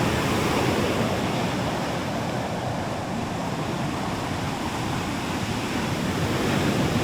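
Sea waves break steadily on a Thrissur shore in rainy weather, a dense continuous roar of surf with wind noise and no voices.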